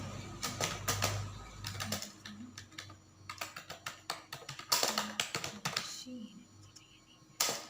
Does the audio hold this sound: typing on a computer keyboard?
yes